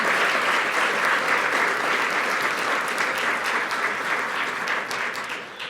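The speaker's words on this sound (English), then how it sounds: "Please join me in giving a round of applause to all of our sponsors for this event." A summit audience gives its event sponsors a sustained round of applause, many hands clapping in a full, continuous roar that holds steady before tapering slightly at the end.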